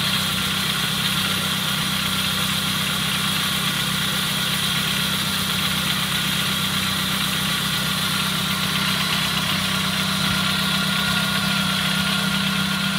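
A car's engine idles steadily with its radiator cooling fan running, a constant close whirring drone with a low hum beneath, alone without voices, in an auto electrical shop dealing with a car whose battery won't charge.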